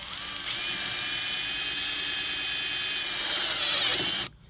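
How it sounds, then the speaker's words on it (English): A drill bit bores through a garden hose cap on softwood: after a short quiet start, a close, steady high-pitched motor whine holds for several seconds as the bit cuts through, then stops abruptly. "try to drill through in a smooth and even fashion"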